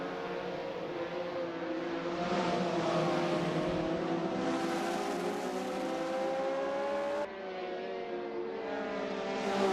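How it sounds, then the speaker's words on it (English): Historic sportscar engines at full throttle in Assetto Corsa on the Nordschleife: a continuous loud, buzzing engine drone at steady pitch with slight swells, no voices. "it's just the sound of engines for 25 minutes"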